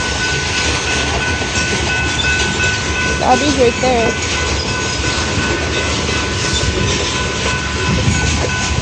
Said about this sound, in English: A long train.